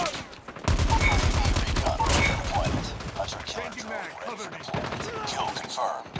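Call of Duty gunfire in dense, rapid automatic bursts, loud and close, with shouted in-game voices breaking through between volleys.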